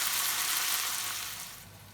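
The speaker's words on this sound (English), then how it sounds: "I'm going to put 1 teaspoon of ginger garlic paste. Just cook a little bit" Ginger garlic paste sizzles in a hot pan for a beef meatball curry, giving a steady, bright frying hiss that softens slightly toward the end, with no talk.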